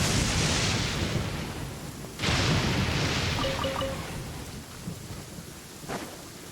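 Steady rain hisses throughout a video game scene, with a deep roll of thunder rumbling in partway through; no voices.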